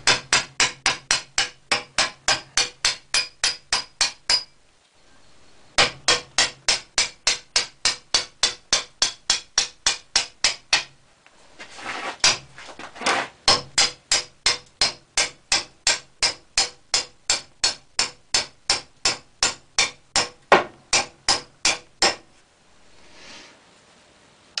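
Steady hammer blows drive a wedge to split a hazel bow stave, sharp woody knocks in long even runs with brief pauses between bursts, close and loud.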